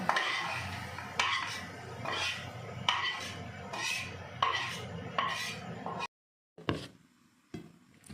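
Jackfruit seed mash is scraped from a pan onto a plate: a run of repeated metallic scrapes and clinks of a utensil against cookware, close and moderately loud, ending in a pause and a few last taps.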